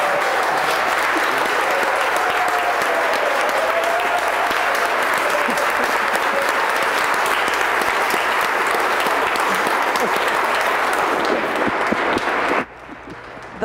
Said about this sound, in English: The legislative chamber burst out with thunderous applause and plenty of emotion as the results of the vote were read